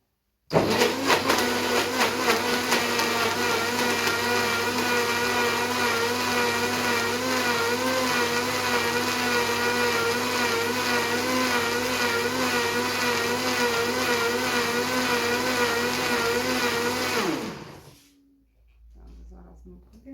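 A blender whirs loudly and steadily for about seventeen seconds, its motor pitch wavering slightly as it churns a thick vegan date caramel mixture with chicory powder, then winds down and stops.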